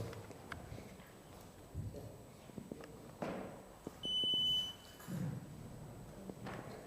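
A timer alarm beeps in one loud, steady burst lasting about half a second, set against murmuring voices and room noise at a seminar gathering.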